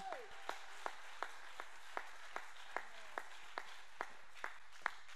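Steady single hand claps at a church service, evenly spaced about twice a second and fairly faint, with a low murmur of voices underneath.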